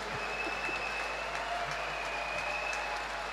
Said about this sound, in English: Take the applause that is rightly yours.